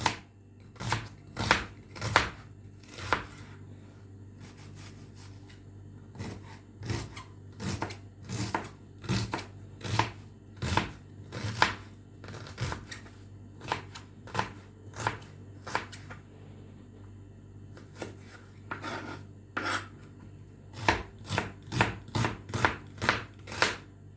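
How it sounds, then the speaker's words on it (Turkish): Dry onion is chopped with a knife on a board, giving many sharp, close knocks in uneven bursts and runs, with short pauses between groups and a low steady hum beneath. "Kuru soğan da doğrayacağım."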